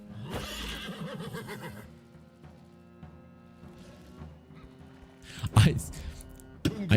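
A horse neighs in the video game Wartales, a long whinny up front followed by quieter game tones, then sharp louder neighs and snorting bursts near the end.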